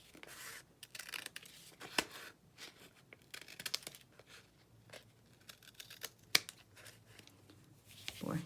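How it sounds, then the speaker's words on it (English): Scissors snipping paper while making a multi-pocket craft pouch, a quiet close-up series of short irregular cuts with rustling and handling noises between them. "cut a straight line with the scissors instead of my trimmer"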